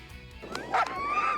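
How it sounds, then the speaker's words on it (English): Excited sled dogs yip and whine at the start of a sprint mail-run race in Fort Smith, Northwest Territories, a short rising cry with a little clatter around it. "his dogs are really keen and ready to go"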